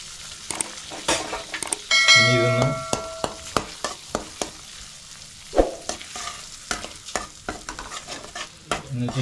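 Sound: scrambling and frying eggs in butter in a pan

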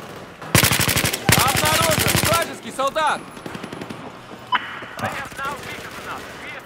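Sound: machine gun fire in the video game Battlefield 4

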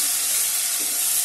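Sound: onions frying in oil

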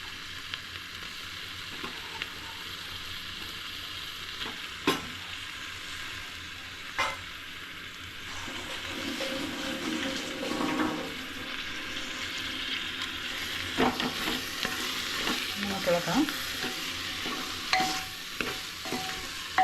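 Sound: chicken frying and being stirred for chicken curry

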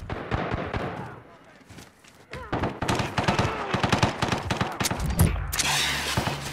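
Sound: gunfire aimed at the player in a video game

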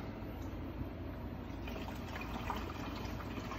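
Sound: water filling the Breville Oracle Touch coffee machine

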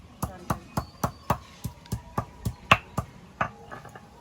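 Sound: grinding whole garam masala spices on a stone

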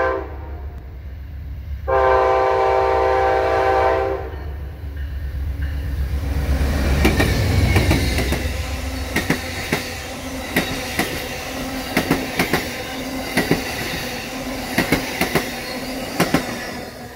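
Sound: Carolinian passenger train P079 passing southbound

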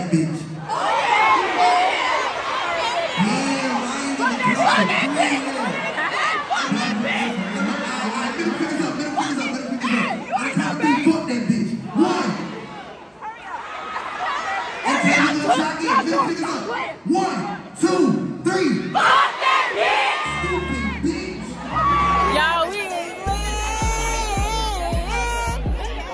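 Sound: homecoming concert crowd screaming and cheering

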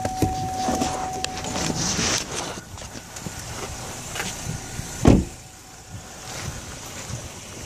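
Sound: car driving

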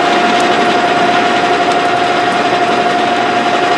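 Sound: lathe turning a gearbox shaft at 715 RPM

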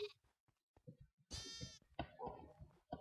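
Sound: sheep bleating in a video game

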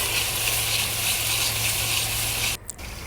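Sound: cream (malai) sizzling and being stirred in a pan to make desi ghee

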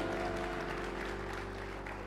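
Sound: church congregation clapping and applauding

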